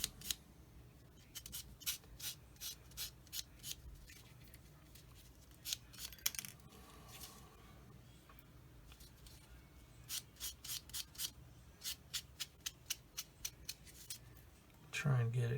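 A soft sponge sanding stick rubs plastic 1/72 scale Ju 87G Stuka model propeller blades in quick bursts of short, scratchy strokes with pauses between, close but quiet, with a voice heard faintly under it.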